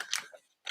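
Scissors snipping through a paper die cut, two quick crisp cuts close by with a short pause between.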